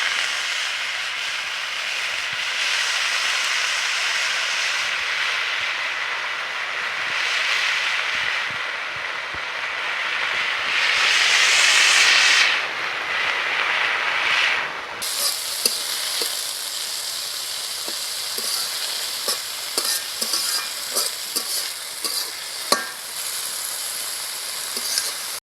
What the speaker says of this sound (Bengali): ওই তেলে দিয়ে দিব থানকুনির পাতাগুলো।